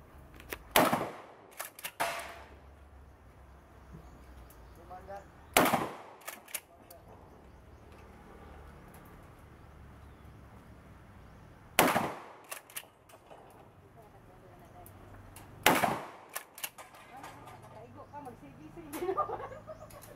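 Shotgun blasts from a Mossberg 590 at a shooting range: four loud, sharp reports spaced several seconds apart, each with a brief ringing tail, over a quiet outdoor background with faint talk between shots.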